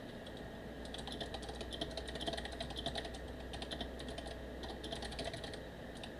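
Steady rapid typing on a computer keyboard, close and continuous in bursts, sitting over a constant low hum and hiss of room noise.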